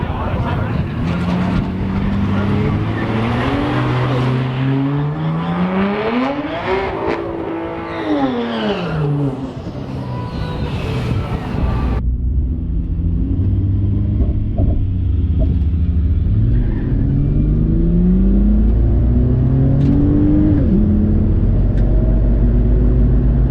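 A turbocharged Barra-engined Ford Falcon launches hard on a drag strip, its engine loud and close as it climbs through rising gear-change sweeps, then drops off and builds again in a long run down the track.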